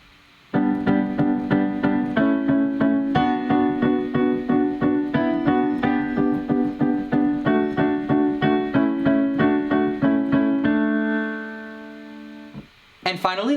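Piano plays the melody of a song, striking a chord on every beat in a steady pulse, close and clear, with a held final chord that fades.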